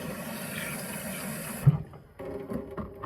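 Tap water runs steadily into a sink to refill the wash water while cleaning a rusty magnet-fishing find, a continuous rushing stream that cuts off partway, followed by quieter splashing and handling.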